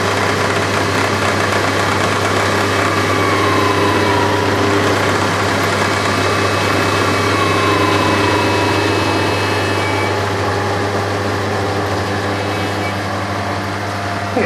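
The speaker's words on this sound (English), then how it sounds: "the lathe's having a bit of trouble now, speeding up again" A lathe drives a car alternator that is generating current into a load, and a loud, steady motor drone fills the stretch with a constant low hum, its pitch sagging under strain and then recovering as it speeds up again.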